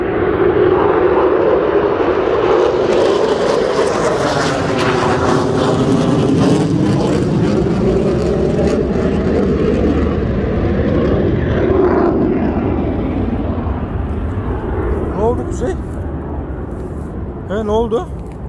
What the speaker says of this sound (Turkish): Uçak mı geçti sonra?